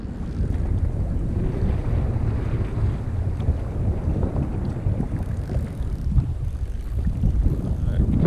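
Wind buffets a kayak out at sea, a steady loud roar of gusts across the microphone with low water rumble beneath, continuous for the whole stretch with no talking.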